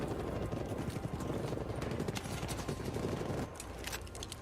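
An RPD light machine gun in Black Ops Cold War multiplayer rattling off rapid, dense bursts of fire up close, with a brief lull near the end, with no talking.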